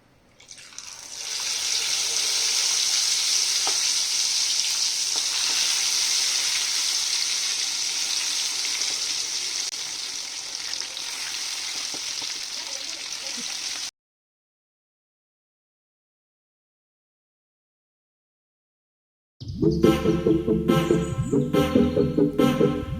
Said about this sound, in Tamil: இப்போ எண்ணெய் சூடாயிடுச்சு, இது சிக்கனை போட்டு பொரிச்சு எடுத்துடலாம்.